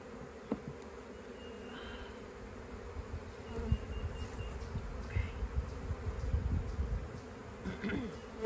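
Steady insect buzzing from many honey bees close by at a hive, a dense low hum with occasional louder passes and soft knocks, no voices.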